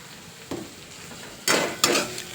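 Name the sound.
crushed peanuts added to a pan and stirred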